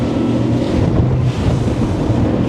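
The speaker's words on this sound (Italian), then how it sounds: "la barca continua a navigare serena, tranquilla, senza nessun problema. Eppure siamo a 20 nodi di velocità." A Halma Rib HR25 boat runs at about 20 knots across open water, a steady, loud, close roar of engine, hull rush and wind blended into one continuous wash without any break.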